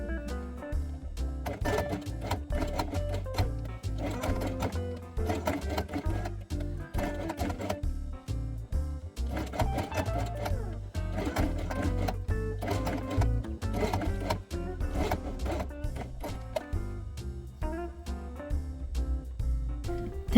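A sewing machine stitching Velcro along the edge of a felt quiet book piece with white thread, a rapid mechanical whirring in repeated bursts with short pauses between runs, close and fairly quiet.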